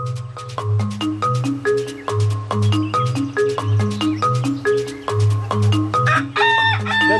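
A rooster crows loudly and repeatedly nearby, its strained harmonic calls rising and falling in close succession with no other sounds around.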